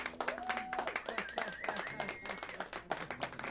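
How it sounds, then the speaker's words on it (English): An open mic audience claps and applauds, a lively patter of hands close by with a voice talking over it. "Big round of applause for that gentleman, please."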